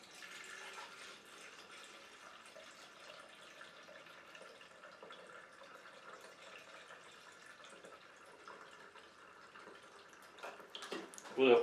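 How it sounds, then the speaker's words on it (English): Water filling a container from a valve while homemade root bourbon is being made, a steady faint hiss and trickle that swells into louder splashing at the end, with someone speaking. "So we're going to fill it up."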